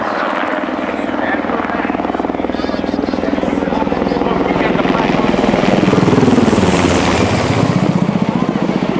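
A helicopter hovering nearby during a 106th Rescue Wing combat search-and-rescue demonstration at the 2008 Jones Beach Airshow, its rotor thudding in a loud, rapid, steady pulse with engine roar swelling slightly, no voices.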